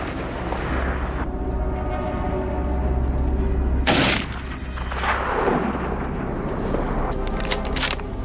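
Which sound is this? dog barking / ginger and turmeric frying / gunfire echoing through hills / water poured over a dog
gunfire echoing through hills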